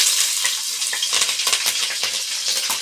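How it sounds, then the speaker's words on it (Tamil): Onion and green chilies sizzle in a hot pan for Cheppuli fish podimas, a loud steady frying hiss close up, broken by quick stirring scrapes and clicks, with no voices. "அதுக்கப்புறம் நம்ம வந்து வெங்காயம் இந்த பச்சை மிளகா போடுறோம்"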